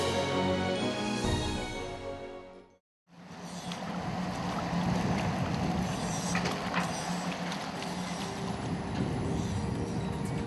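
Thai navy survey ship HTMS Pharuehatsabodi getting under way from Sattahip, a steady low rumble of engines and churning water that resumes after a brief cut and holds evenly near the microphone.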